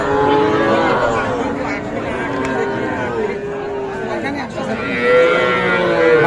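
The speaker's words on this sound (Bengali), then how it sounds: "এগুলো কিন্তু সব বাছুর তবে সব ষাঁড় বাছুর" Young bull calves at a busy rural cattle market moo in long, drawn-out calls one after another, close and loud, over a constant murmur of crowd chatter and talk.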